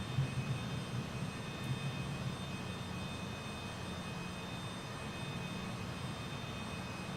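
Steady jet engine roar from a Cessna Citation CJ4 business jet accelerating down the runway on its takeoff roll in a flight simulator, a continuous broadband rumble with faint high tones, even and sustained throughout.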